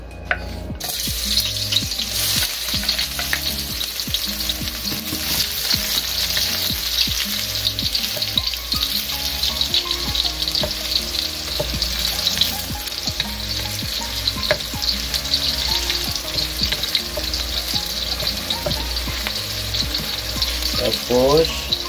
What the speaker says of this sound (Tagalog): Gisa ko ng ahos.